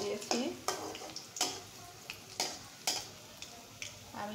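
Garlic fries slowly in oil in a pan, a soft, quiet sizzle punctuated by regular scrapes and taps of a spatula stirring against the metal.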